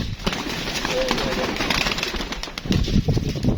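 Fancy flying pigeons coo and flutter nearby, with soft wing flaps and low calls mixed in, while someone talks over them.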